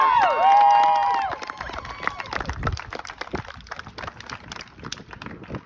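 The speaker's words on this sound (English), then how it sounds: "Give a round of applause to everybody that's here for" A live audience cheers with whoops and shouts at the start, then breaks into scattered, uneven clapping that fades and thins out toward the end.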